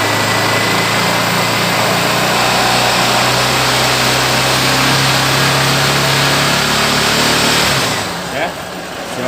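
A 2010 Honda NXR 150 Bros ESD Mix motorcycle engine runs loud and close in a steady, dense roar with slight rises in pitch as the throttle is opened, easing off near the end, with someone talking underneath.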